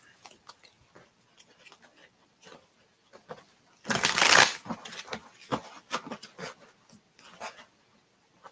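Tarot cards are shuffled up close in a quiet room, giving soft riffling and a louder burst of flapping cards near the middle, with light handling noises around it.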